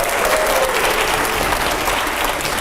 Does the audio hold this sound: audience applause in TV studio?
yes